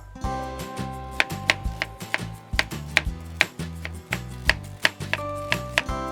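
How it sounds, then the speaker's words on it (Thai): Repeated knife strokes slicing ginger thinly against a cutting board, sharp taps in an irregular rhythm with soft music playing underneath, close and clear. "จากนั้นก็เอามาหั่นเป็นชิ้นบางๆครับ"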